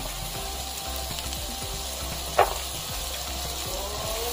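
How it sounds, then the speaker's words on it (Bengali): Small chopped carrots fry with garlic in a pan, giving a steady, close sizzle throughout with a single brief clatter partway through. "গাজরটা দিয়ে আর কি আমি 2 মিনিট ভেজে নিব।"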